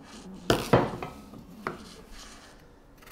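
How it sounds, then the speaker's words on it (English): Knife cutting a peeled potato into steak fries: a few sharp thunks as the blade strikes the board, one strong pair close together, then lighter taps and faint scraping, close and alone. "Let's cut some steak fries out of this. Now that it's peeled up. Down the middle."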